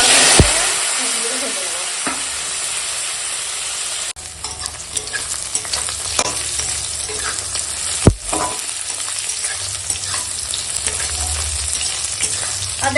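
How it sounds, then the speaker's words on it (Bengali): Oil sizzles steadily as okra fries in a pan, with occasional stirring scrapes and clatters over a continuous crackling hiss. "দেখো এখন ভেন্ডিটা প্রায় ভাজা হয়ে গেছে"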